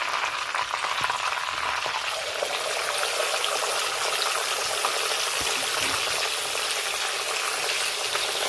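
Chicken pieces deep frying in hot oil for kada biryani: a steady, close, even sizzle with a bubbling, trickling texture and faint stirring, and no talking.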